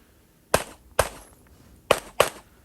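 Four sharp, loud pistol shots from a 1911 single-stack at a USPSA shooting stage, fired in two pairs with pauses between them, plus the start of a fifth shot right at the end.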